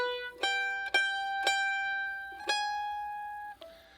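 Mandolin picking single notes of a jig measure in a slow, uneven rhythm, each note bright and ringing, played close up in a quiet room.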